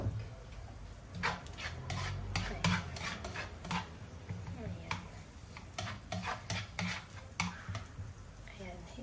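Garlic sautéing in a pan for a shrimp and spinach coconut-milk dish, with a soft sizzle beneath repeated scraping stir strokes and utensil knocks against the pan, close by, while a person talks over it.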